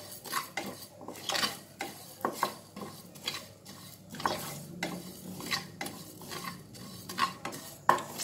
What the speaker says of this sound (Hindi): पहला असी सौंफ ते जिहड़ा धनिया है इन्हू हल्का जिहा भुन लेना है